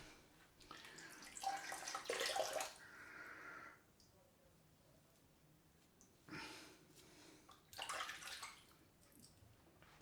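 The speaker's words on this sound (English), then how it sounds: "Get a bit more water on the face." Water runs from a tap in short bursts during a wet shave with maca root shave cream, with quiet gaps and faint sniffs between the splashes.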